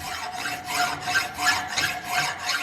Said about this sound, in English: with the help of the rough file we will remove the extra material to achieve the flatness at this surface